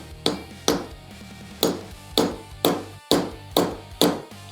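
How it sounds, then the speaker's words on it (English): A hammer drives a metal insert into a hole in wooden lumber with a steady run of about eight firm, evenly spaced strikes, each sharp and close with a brief bright ring. "And then drive it in."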